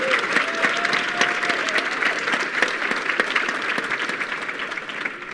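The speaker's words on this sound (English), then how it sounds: "So a round of applause" Sustained audience applause fills the room, a dense, steady wash of many hands clapping, holding evenly for several seconds.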